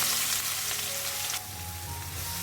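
Sliced onions fry in hot mustard oil until golden brown for an Odia-style chicken jhola, giving a steady, close, dense sizzle that eases slightly partway through and carries on alone without talk.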